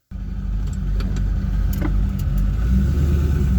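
A C5 Corvette with a rebuilt T56 transmission on a test drive, its engine starting a steady, close droning rumble that builds slightly in loudness and continues without talk.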